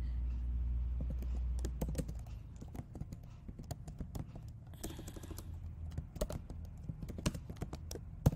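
Keys clacking irregularly on a MacBook Pro keyboard while typing Urdu, a close, steady run of light taps with a low hum early on.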